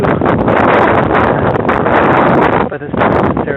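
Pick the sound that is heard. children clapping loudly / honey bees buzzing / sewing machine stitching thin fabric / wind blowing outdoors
wind blowing outdoors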